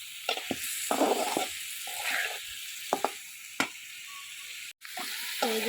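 Sliced potatoes and pointed gourd cooking with shrimp in a pan, a close bright sizzle with repeated scraping stirs and clatters of a spoon, one abrupt cut near the end.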